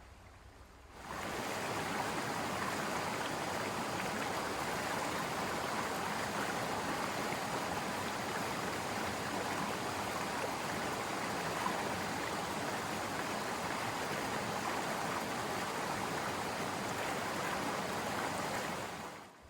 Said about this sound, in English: keep track of the different water sounds you hear